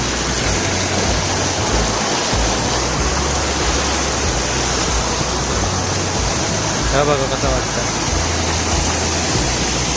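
A waterfall swollen by heavy rain roars as a loud, unbroken rush of water close by, filling the whole stretch while someone speaks briefly over it.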